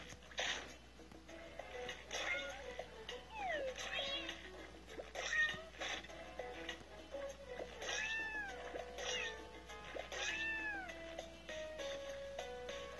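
Cats meowing in a cat video game, many short rising and falling meows repeating at an uneven pace, fairly close over a quiet game background.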